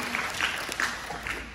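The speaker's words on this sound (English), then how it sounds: "Give him a clap." Brief scattered audience clapping for Warren at a small show, a few seconds of uneven hand claps at moderate volume.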